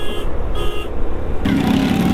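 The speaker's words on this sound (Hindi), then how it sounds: "आप देख सकते हैं पीछे गाड़ी शोर मचा रही है" A vehicle stuck behind in a traffic jam on a narrow village road during a Kanwar Yatra motorcycle ride makes steady engine and road rumble, with on-off tonal beeping pulses early and a louder, broader roar joining near the end.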